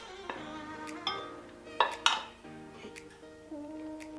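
A spatula scraping and stirring funfetti cake batter in a mixing bowl, soft scrapes punctuated by a few sharp clinks against the bowl, quiet and close.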